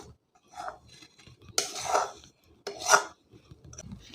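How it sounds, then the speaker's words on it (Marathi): Roasted semolina (rava) scraped out of a pan onto a plate while making sanjachi poli: two loud, raspy scraping strokes with softer rubbing and metallic scratches in between, close and without talk. "आता रवा आपण ताटामध्ये काढून घेऊया"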